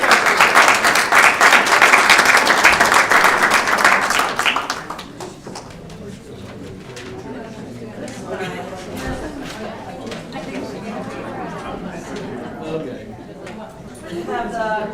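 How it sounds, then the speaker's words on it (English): Loud applause from a school audience honoring students and their families at a superintendent's outstanding student of the month presentation, steady dense clapping for about five seconds before fading into murmuring chatter and movement. "How about another round of applause for our family and our students?"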